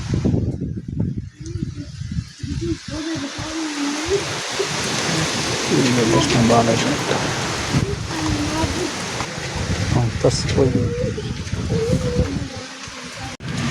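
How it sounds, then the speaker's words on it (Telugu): Heavy summer rain pours steadily throughout in Araku, a dense roar with a low rumble underneath, while people talk intermittently over it. "వర్షం చాలా దారుణం వస్తుంది ఫ్రెండ్స్"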